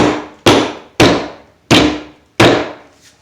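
Hammer blows driving fasteners while hanging drywall, five sharp, loud strikes spaced about half a second apart, each ringing briefly before fading, with no voices.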